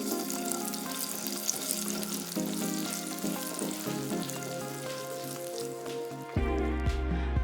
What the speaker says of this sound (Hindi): अब हम 1 टेबलस्पून किशमिश को हल्का सा भून लेंगे।